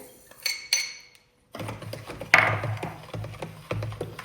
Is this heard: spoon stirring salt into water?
yes